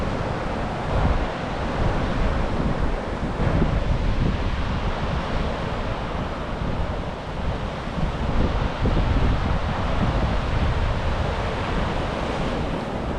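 Ocean surf rolls onto a busy Los Angeles surfing beach in a steady, loud, continuous wash, with wind buffeting the microphone throughout and no voices.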